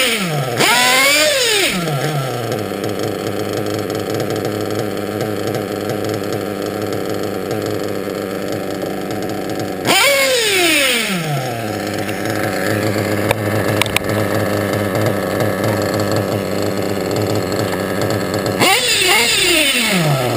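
A small two-stroke engine runs steadily and loudly throughout while its carburetor is adjusted for a double-step response, with a few brief revving surges rising and falling over the constant drone.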